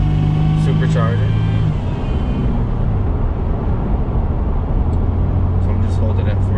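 Supercharged 2002 Toyota Tacoma engine droning steadily while cruising at 45 mph, a continuous loud low road and engine rumble with shifting tones, heard from inside the cab.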